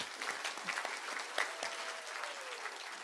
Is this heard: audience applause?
yes